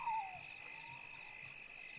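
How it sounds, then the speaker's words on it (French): An owl at night gives a single faint hoot that slides downward, heard from a distance over a steady background hiss. "Un hibou."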